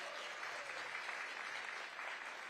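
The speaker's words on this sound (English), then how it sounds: "Give the mayor a big round of applause." Steady applause from an audience at a ribbon-cutting ceremony for a new therapeutic recreation center, a dense, even wash of clapping that holds throughout at moderate distance.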